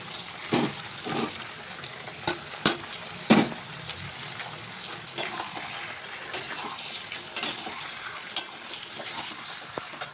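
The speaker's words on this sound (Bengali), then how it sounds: "আমার এতক্ষণে 4 কেজি মাংস কড়াই দেওয়া হয়ে গেছে" About four kilograms of chicken fries in a wok, a steady sizzle broken by repeated sharp scrapes and clanks of stirring, close and fairly loud.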